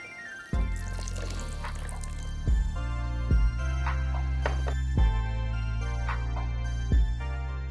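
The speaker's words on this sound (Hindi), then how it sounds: "अब हम इसमें थोड़ा पानी बढ़ा लेते हैं।" Water trickling and dripping into a bowl of ragi pancake batter, with occasional wet plops over steady background music.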